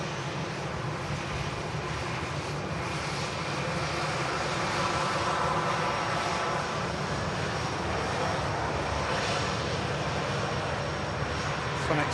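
A jet airliner rolls for takeoff on an airport runway, its engines a loud, sustained roar that builds slightly and holds steady throughout, heard from a distance with no talk.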